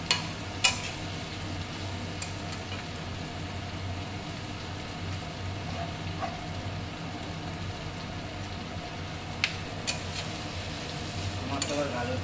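Vegetables, with carrots mentioned, fry in a pan with a steady low sizzle and occasional stirring clicks, heard at close range with no speech.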